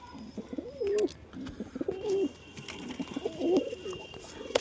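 Pigeons in a coop give soft, repeated throaty coos in uneven bursts, close by, with faint rustling and light background noise between calls.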